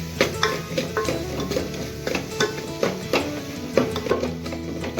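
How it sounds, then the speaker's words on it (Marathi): Pav bhaji masala with red chilli powder and turmeric roasting in a pan, giving a soft steady sizzle broken by repeated scraping and clinking stirs of a spoon against the pan, close and fairly loud, with no talking. "चांगलं हे परत भाजून घ्यायचं आहे 2 ते 3 मिनटं, म्हणजे मसाल्याचा चांगला वास येईल आपल्या भाजीला"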